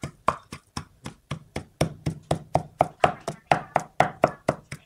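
Fish paste made from freshly caught fish is pounded with a pestle in a mortar in a steady rhythm of sharp, close thuds, about four per second, with no talk.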